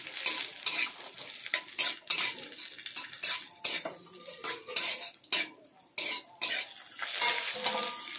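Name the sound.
cashews and raisins frying in oil in a wok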